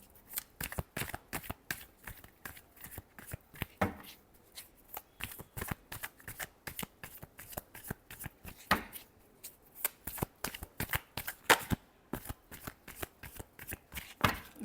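Tarot cards being shuffled by hand up close, a long run of crisp riffling bursts repeating in an irregular rhythm with short pauses between them, and no talking.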